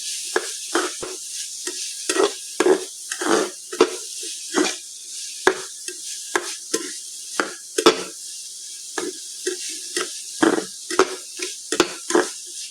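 Onion and ginger-garlic paste fry in a pan with a steady close hiss, punctuated by a rhythmic run of spatula scrapes and stirs throughout.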